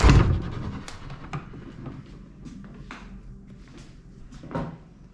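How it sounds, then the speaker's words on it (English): An old door in an abandoned Victorian house is pulled open with a sharp creak and clunk at the start, followed by scattered light knocks and rattles as it swings. "If I can open my door."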